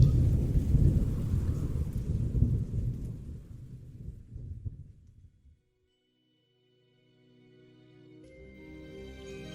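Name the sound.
thunderstorm with rain, audiobook sound effect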